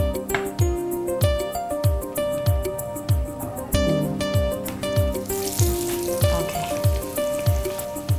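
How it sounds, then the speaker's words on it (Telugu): Egg bread bajji, bread dipped in egg batter and dropped into hot oil, sizzling steadily with a rhythmic tapping beat and light music throughout, no talking. "దీనిలో డిప్ చేసి ఆయిల్లో వేసేయడమే."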